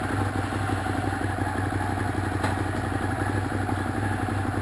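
A Ducati Monster 821 Stripe runs on a first ride, its engine a loud, continuous, close rumble with steady mechanical clatter and no pauses.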